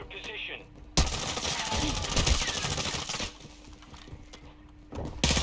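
Hip-fired automatic weapon in Warzone 2.0 lets off a sustained burst of rapid shots, loud and close. It cuts off and then resumes briefly near the end, with game noise and voices around it.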